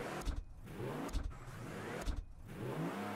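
A car engine in the video game Mafia Definitive Edition revs in repeated surges, about three pushes roughly a second apart, with no talking over it.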